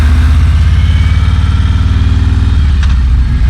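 A 2020 Harley-Davidson Road Glide Special motorcycle engine runs with a loud, steady, close throbbing rumble and a pulsing low beat throughout, easing slightly near the end, with no voices.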